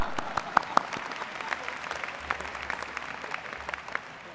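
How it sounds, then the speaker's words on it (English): Audience at a McCombs School of Business winter commencement breaks into applause, a steady wash of clapping with a few sharper claps standing out near the start, moderately loud throughout. "how about a round of applause?"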